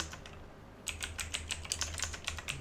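Typing on a computer keyboard while working in Canva, a quick run of light, close key clicks in an irregular rhythm, faint at first and then steady, with no voices.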